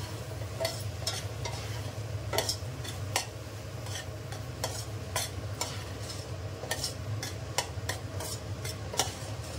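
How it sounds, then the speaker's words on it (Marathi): A spoon or spatula stirs food in a pan, giving quiet scraping strokes and clicks against the metal over a low, steady sizzle, repeating irregularly for several seconds with no voices. "आणि आता याला व्यवस्थित मिक्स करून घेते"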